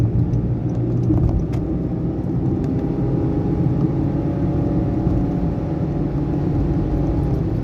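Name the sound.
2019 Honda Jazz car accelerating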